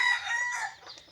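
A rooster crows once, close and clear, a brief bright call that fades out, with chickens around a hen sitting on eggs alongside a wild junglefowl rooster.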